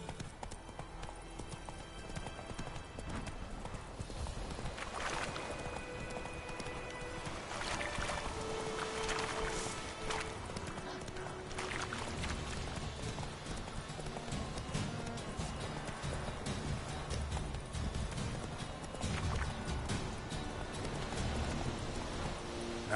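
Hooves clip-clop rhythmically as the horse Roach gallops in The Witcher 3, a steady galloping beat running throughout beneath game music and ambience, fairly quiet overall.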